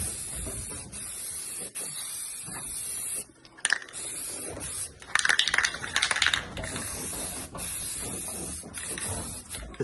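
Top coat paint is sprayed onto a boat's leading edge in a steady hissing stream, broken by short pauses and a burst of louder spraying midway.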